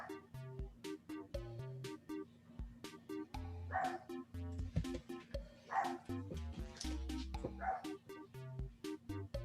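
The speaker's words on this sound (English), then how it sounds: "Try to keep my dogs quiet." Indoors, house dogs bark and yip repeatedly in quick bursts over a rhythmic musical game tune, the barks sharp and fairly near while the music plays on.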